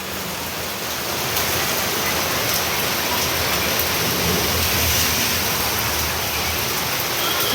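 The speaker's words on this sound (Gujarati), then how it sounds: "અહીંયા ધોધમાર વરસાદ આવે છે" A loud, unbroken downpour roars close by, heavy rain drumming evenly on every surface with no pauses.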